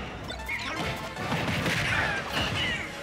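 A sharp up smash hit lands in a Super Smash Bros. tournament match, a crisp impact burst over crowd and game noise in the Final Destination stage.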